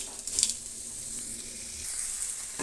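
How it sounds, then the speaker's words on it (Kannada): Onions frying in a pan for a village-style potato palya, with a faint, steady high sizzle, a few soft crackles near the start and a light stir toward the end, close but quiet, with no talk. "ಈರುಳ್ಳಿ ಚೆನ್ನಾಗಿ ಬಾಡಿಸ್ಬೇಕಾಗತ್ತೆ. ಚೆನ್ನಾಗಿ ಫ್ರೈ ಆದರೆ ತುಂಬ ಟೇಸ್ಟ್ ಆಗಿರುತ್ತೆ ಆಲೂಗಡ್ಡೆ ಪಲ್ಯ."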